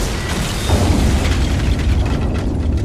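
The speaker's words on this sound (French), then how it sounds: "Une explosion assourdissante est suivie d'un feu destructeur" An explosion in a mine more than 300 metres deep gives a loud, deep booming roar that swells and rumbles on without pause.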